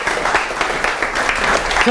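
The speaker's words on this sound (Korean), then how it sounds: "박수 한 번 주세요" Audience applause at a book talk, a brief burst of clapping with voices mingled in, fairly close and steady for about two seconds.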